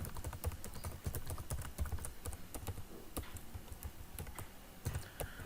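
Java code being typed on a computer keyboard, a quick, uneven run of close, crisp key clicks with short pauses between bursts.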